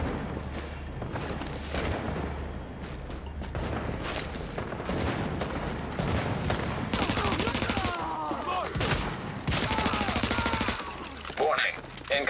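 Sustained gunfire from The Division video game: dense volleys of rapid automatic shots cracking loudly and continuously, with brief pauses between bursts and some game voice alerts mixed in.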